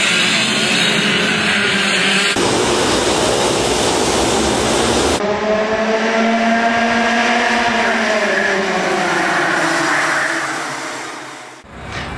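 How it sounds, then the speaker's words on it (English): Kart engines roar loudly and continuously around a racing track, pitch climbing and falling with the passing karts, with abrupt jumps in tone, close and without any voices. "Have you ever thought about going kart racing?"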